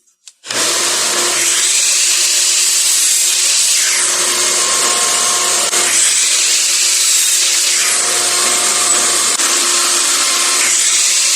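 A power miter saw makes a 45-degree cut in wooden door trim, whining loudly and continuously at close range for over ten seconds with a steady high-pitched drone and slight rises in pitch.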